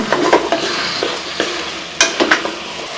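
A spoon stirs chopped chayote and lentils in a pressure cooker, scraping and clinking repeatedly against the metal pot over a steady sizzle, close and loud, with no voices.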